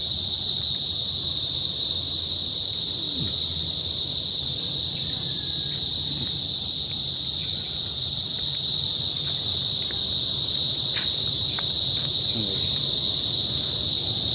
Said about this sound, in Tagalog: Maraming insect, marami rin guys, insekto.